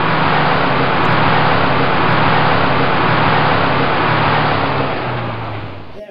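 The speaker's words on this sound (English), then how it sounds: "There are lots of cars," Steady, loud traffic noise from cars driving along a road, a continuous broadband roar with engine hum throughout that fades slightly near the end, no voices.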